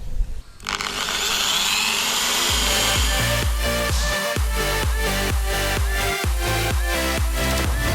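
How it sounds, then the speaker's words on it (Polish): A power drill bores holes in wood for dowels, starting with a short burst and then running steadily in repeated, evenly spaced pulses of the bit cutting in and easing off, loud and close with no talking. "Jak widzicie zaznaczyłem sobie punktakiem i teraz wiercę"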